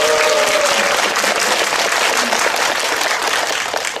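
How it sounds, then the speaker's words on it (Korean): Audience applause fills a cinema after a film screening, a dense, steady burst of many hands clapping close and loud, easing slightly toward the end. "박수 좀 부탁드립니다."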